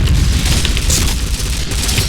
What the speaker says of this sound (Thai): เฮ้ยระเบิดระเบิด